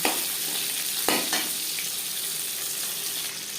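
Pieces of hilsa fish lightly frying in hot oil, a dense, even crackling sizzle close at hand with a couple of brief louder spatters, and nobody talking.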